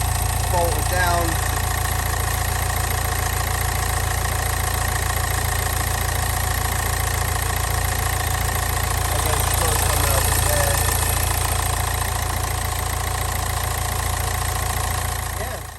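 A Nissan Juke engine idles at a steady low hum for a long stretch, with faint ticking and light vibration. Someone talks quietly over it.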